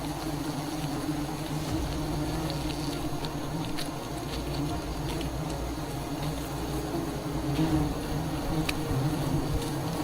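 A dense, steady buzz of many bees around a wild jungle hive hums throughout, close and continuous, with faint crackles and taps underneath.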